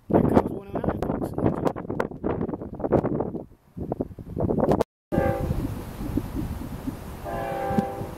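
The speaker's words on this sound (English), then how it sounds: "The first southbound FEC train of the brand new year 2016." A southbound Florida East Coast freight train rumbles past with steady mechanical noise and wind buffeting, then a horn sounds in long tonal blasts near the end, with voices early on.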